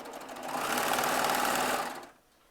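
A Baby Lock serger sewing machine runs in one continuous loud, close burst of rapid mechanical whirring for about two seconds, then stops.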